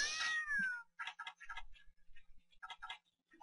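A cat in the video game Monster Hunter Freedom 3 lets out one clear, rising-then-falling meow, followed by a run of quick ticking clicks and faint game sounds, with no talking.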